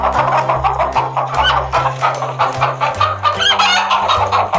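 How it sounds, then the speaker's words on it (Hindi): Repeated hen clucks over a steady backdrop of plucked, rhythmic music, loud and close throughout with no talking. "एक थी मुर्गी किटकिट, इसके दो बच्चे थे, एक का नाम चीनो और दूसरे का नाम मेनू था।"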